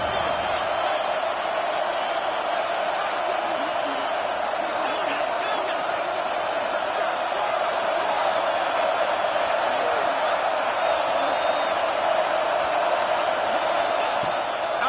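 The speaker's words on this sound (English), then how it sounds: "This crowd knows when to bring it." Football stadium crowd keeps up a steady, distant roar of cheering throughout, a constant wash of many voices with no single sound standing out.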